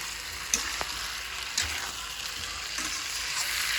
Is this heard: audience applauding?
no